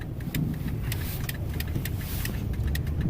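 A car drives through the downtown streets of Seattle, a loud, steady low engine and road rumble heard from inside the cabin with faint intermittent ticking, and no voices.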